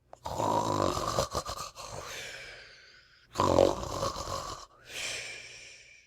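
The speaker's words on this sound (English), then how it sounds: "listened attentively to the snores. They were very loud indeed, but seemed quite natural." Loud, rasping snores come in long drawn breaths, three or four in a row with short pauses between, close and heavy.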